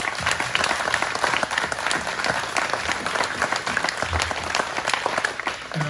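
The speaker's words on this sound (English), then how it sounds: "let's have a round of applause for" An audience at an annual meeting applauds steadily, a dense patter of many hands clapping at moderate volume for several seconds, with no voices over it.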